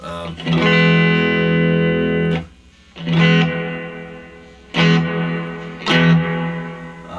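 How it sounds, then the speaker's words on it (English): Electric guitar chords strummed through a VOX AC10 amp with reverb, four ringing strums, each fading into a washy tail, loud and close. "I'll let you hear the reverb"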